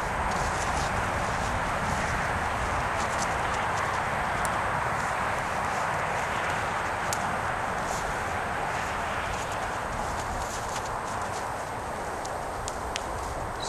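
Hoof beats of a six-year-old Andalusian mare trotting on the ground while being worked from the ground, a steady dense clatter with constant background noise and no talk.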